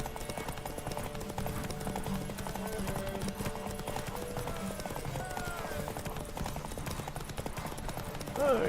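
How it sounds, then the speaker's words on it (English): Horse hooves clip-clopping along a road in The Witcher 3 video game, a quick regular trot of hoofbeats over a soft game music bed. "random horse in the road."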